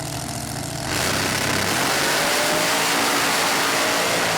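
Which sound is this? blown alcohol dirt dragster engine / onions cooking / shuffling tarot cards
blown alcohol dirt dragster engine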